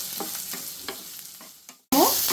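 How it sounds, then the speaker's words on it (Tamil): Onions sauté in a hot pan for a karaikudi onion kosumalli, with a steady sizzle, a few stirring scrapes and a brief pause before the frying noise returns loud and close. "இந்த வெங்காயம் வதங்கிட்டு இருக்கும்போது"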